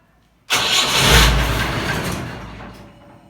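A Willys jeep engine cranks and catches abruptly, revving loudly before fading away as it stalls, a short, close burst of engine noise.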